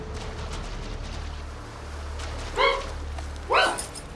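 Two sharp dog barks ring out close by in Far Cry 6, spaced about a second apart over a low steady rumble of game ambience, with no one speaking.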